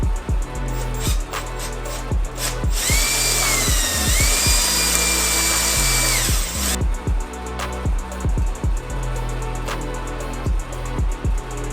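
A power drill whines steadily for a few seconds, drilling out a broken bolt in an RB25 engine, amid repeated sharp metallic taps and clanks, close and loud.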